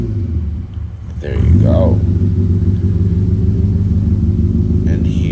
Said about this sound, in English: I wanna show you this startup of my car